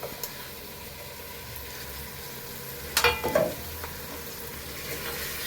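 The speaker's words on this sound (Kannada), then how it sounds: "ಒಂದು 2 ನಿಮಿಷ ಇದನ್ನು ಎಣ್ಣೆಲಿ ಬಾಡಿಸೋಣ." Sprouted horse gram sautéing in hot oil in a pan, a steady low sizzle throughout with a few brief clatters of stirring near the middle and end, no voices.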